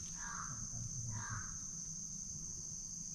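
A crow caws twice in the distance, faint harsh calls over a steady outdoor bed of insect buzzing.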